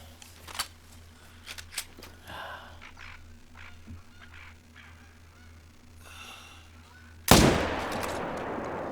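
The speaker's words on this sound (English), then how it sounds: "Let's see if I can get a hard shot from here." A single loud rifle shot bursts out near the end in the hunting game The Hunter Call of the Wild, preceded by quiet rustling, breathing and faint background ambience.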